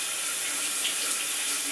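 Water from a WaterPik dual shower head with both heads running sprays in a steady, close, even hiss of falling water, with no breaks or talk.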